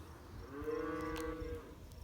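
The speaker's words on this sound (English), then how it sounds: "You can see the big crew up there of steers." A single steer lowing on pasture: one drawn-out, harmonic moo lasting about a second, fairly faint and distant against quiet outdoor background.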